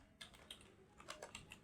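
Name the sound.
typing on a computer keyboard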